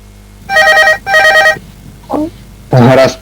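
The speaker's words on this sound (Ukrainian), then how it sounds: "Почекайте, коли до мене хтось дзвонить, секунду." A telephone rings loudly in two evenly spaced electronic trilling bursts, then a person starts speaking close to the phone.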